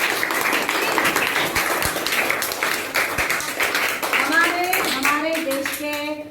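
Schoolchildren and audience at a Gandhi Vidyalaya model exhibition clap in a thick, sustained round of applause, which fades as children's voices rise near the end.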